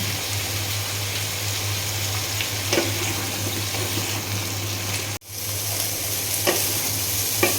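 Cauliflower florets and potato pieces frying in hot oil with turmeric and salt in a kadai, a dense, steady sizzle close up with occasional stirring clicks and one brief dropout, no voices.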